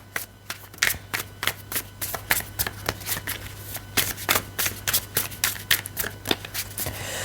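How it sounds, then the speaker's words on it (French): Tarot cards are shuffled in a steady run of crisp riffling snaps, close and fairly loud, repeating in quick bursts throughout with no talking. "je vais prendre pour commencer une carte du tarot"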